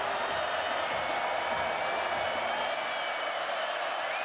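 Stadium crowd roaring steadily at a 2022 Florida State vs. NC State college football game, a dense, sustained wash of cheering before a third down with no break in the noise.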